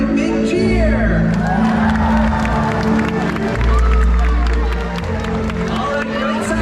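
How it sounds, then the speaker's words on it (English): Stadium crowd at the SeaWorld Orca Encounter in Florida cheering and whooping for an orca's bow, a loud sustained roar of many voices with shouts, claps and booming water or amplified sound beneath an announcer talking. "let's give her a great big cheer!"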